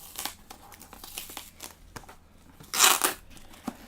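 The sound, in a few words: tearing open a heavily taped-up mailer package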